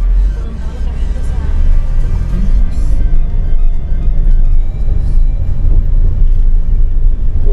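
A white car drives along a city street in Morelia's historic centre, a steady low traffic rumble continuing throughout, with engine noise rising slightly as it moves past at close range.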